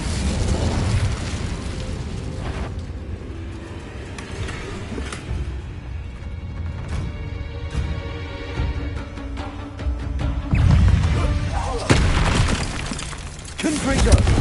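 An Incendio fire spell is cast in Hogwarts Legacy, giving whooshing fiery bursts and booming flares over an ongoing music and ambience bed. The louder bursts come near the start and again toward the end.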